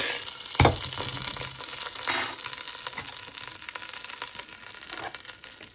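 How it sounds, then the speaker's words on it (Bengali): Butter sizzling in a frying pan while making Bangladeshi mishti doi, a steady crackling hiss throughout with a sharp pop near the start, close and continuous with no talk. "সামান্য একটু বাটার দিয়ে দিচ্ছি"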